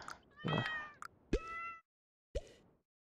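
Cats meow several times in quick succession at a cat party in the video game Tower Unite, short close mewing calls separated by soft plops and brief silences.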